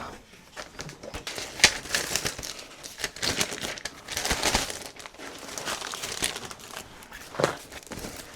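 Crinkly packaging paper is handled and crumpled up close, irregular crackling rustles coming in bursts with sharper crinkles here and there, no talking.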